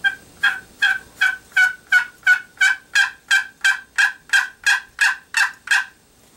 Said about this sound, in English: this is a box call, is what they call this